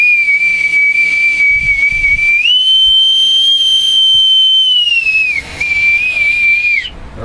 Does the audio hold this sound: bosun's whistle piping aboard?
yes